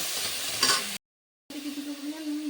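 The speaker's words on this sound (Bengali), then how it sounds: "এবার আমি তাতে চিকেন কিউবটা দিয়ে দিচ্ছি এবার আবার ভালোভাবে কষিয়ে নেব" Chicken cubes sizzle and get stirred in a pan for chicken fried rice, a hissing fry with scraping stirs, broken by a sudden brief silence before a steadier sizzle with a low hum resumes.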